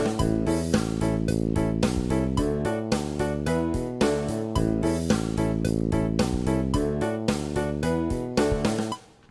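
A steady synth bassline bouncing between root fifths and stepping passing notes, with a driving beat, no voices, ending with a sudden cutoff.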